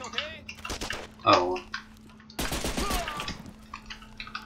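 Gunfire in the shooter Mortyr IV: Operation Thunderstorm, several sharp bursts of shots including a loud cluster mid-clip, mixed with game sounds and a speaking voice.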